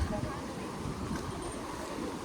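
Sea waves washing against the jetty at Dona Paula in Goa during the monsoon, with a strong wind blowing, form a steady, dense roar that holds throughout.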